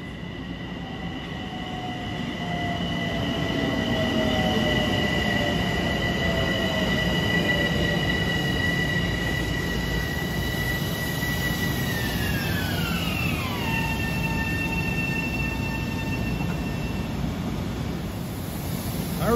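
Long Island Rail Road train at Cold Spring Harbor station on a cool autumn day, its wheels squealing in sustained high tones that slide downward as it slows, over a steady rolling rumble, moderately loud and close, with no talk.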